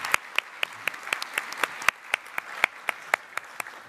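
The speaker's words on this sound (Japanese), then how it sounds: "皆様今一度盛大な拍手をお送りください。" An audience at an energy policy conference claps in a steady, sparse rhythm, individual sharp claps spaced evenly, fairly close and moderately loud with no talking.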